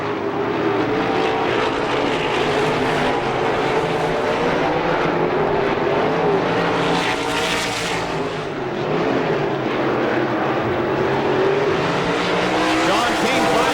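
Sprint race cars roar continuously around a Pittsburgh speedway during All Star Circuit of Champions racing, a loud dense engine wash that swells as cars pass, with an announcer's voice over it.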